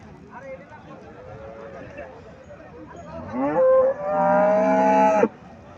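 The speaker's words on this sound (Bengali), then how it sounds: "এখানে একটা গাভি দেখা যাচ্ছে, হলিস্টিন ফ্রিজিয়ান জাতের গাভি।" A Holstein Friesian cow moos nearby in a long, drawn-out low call, following some quieter vocal sounds and background noise.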